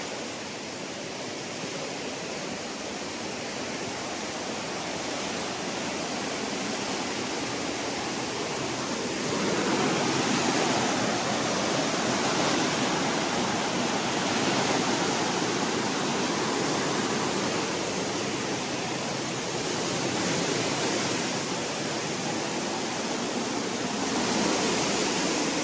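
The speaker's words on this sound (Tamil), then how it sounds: "ஸோ இங்கேருந்து தண்ணியெல்லாம் இங்கே ஒரு ஃபால்ஸாக கீழே போயிட்டுருக்கு." Waterfall roaring as water drops down from above, a steady broadband rush heard from nearby that swells louder partway through and stays continuous, with no talking.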